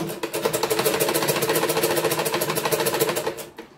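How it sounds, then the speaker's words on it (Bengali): Sewing machine stitching the hem of a pair of half pants, a steady fast mechanical whir and rapid needle clatter running continuously at close range before stopping at the end, no voices. "নিচের দিকটা সেলাই করে নেব"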